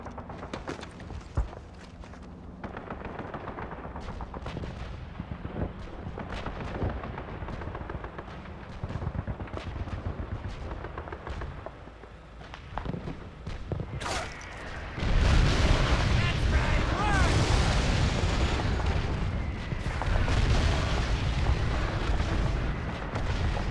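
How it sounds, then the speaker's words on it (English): Artillery barrage striking an enemy convoy in Call of Duty 2's Battle of Gela: deep booming blasts and rumbling impacts build into a dense, loud, continuous roar of explosions in the second half. "Fire mission battery, grid 233937. Enemy convoy in open. Fire for effect."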